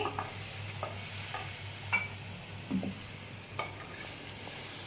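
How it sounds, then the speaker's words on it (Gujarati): A ragi and carrot kheer mixture is stirred in a pan, with soft scattered scrapes and light taps of the spoon over a steady background hum, quiet and close. "મિશ્રણને વ્યવસ્થિત રીતે મિક્સ કરી લઈશું"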